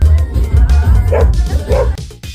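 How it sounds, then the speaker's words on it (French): A dog barks and yips repeatedly at a small evening party by a lake at night, with close, loud bursts and a whimpering edge over faint background voices. "s'est fait aboyer dessus par un chien."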